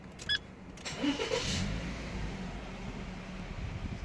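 A 2014 Subaru Forester engine cranks and catches at close range, then settles into a steady low idle.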